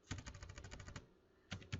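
Quick, rapid keystrokes tap on a computer keyboard while code for an Arduino potentiometer and LED project is written, a close burst of clicks, a short pause, then two more taps.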